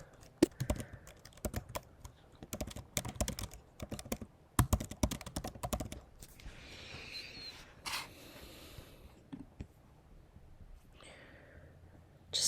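Rapid typing on a computer keyboard, brisk and close for the first six seconds, then thinning into a few scattered quieter taps and soft rustling.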